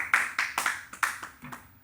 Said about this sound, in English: Give a little golf clap to Miss Sweden.